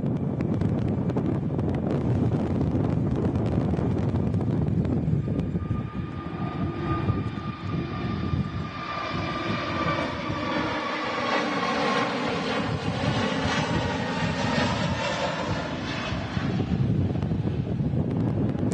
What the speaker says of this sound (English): Here goes the Jet2 A321 Neo taking off in these crazy winds